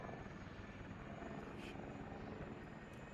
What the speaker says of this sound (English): at least I got here just in time to watch the helicopter take off.